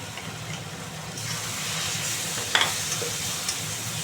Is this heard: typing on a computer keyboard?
no